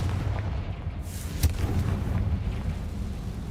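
A Confringo fire spell bursts with a single sharp explosive boom midway through the Hogwarts Legacy game, set against a steady low ambient rumble.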